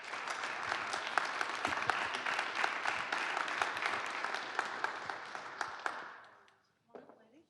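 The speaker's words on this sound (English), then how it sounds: "Round of applause." An audience at a morning panel event gives a loud, sustained round of applause, dense clapping for about six seconds before it fades out, followed by a brief quieter patter.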